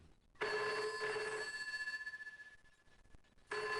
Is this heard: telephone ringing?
yes